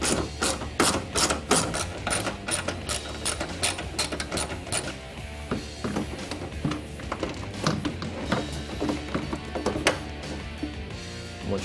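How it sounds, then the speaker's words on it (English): A hand ratchet backing out 10mm bolts holding a Ford Mustang headlight, its pawl clicking in fast, loud bursts at first, then in slower, sparser strokes as the bolts loosen. "there's one 10mm bolt up on the top and there's 2 on the bottom. So remove those and this thing slides right out"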